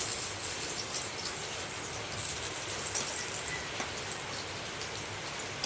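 Steady rain falls outdoors, a dense even hiss of drops on surfaces, with faint insect chirps beneath and no talking.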